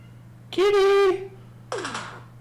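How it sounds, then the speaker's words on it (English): A pet cat lets out a loud, clear meow up close, followed by a second shorter descending meow after a brief pause, over a steady low electrical hum. "My cat's making noises."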